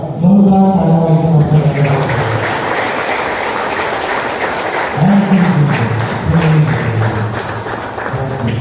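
A church congregation claps loudly in sustained applause, with a voice singing or calling out over the clapping.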